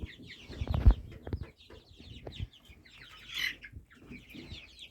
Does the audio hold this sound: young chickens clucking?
yes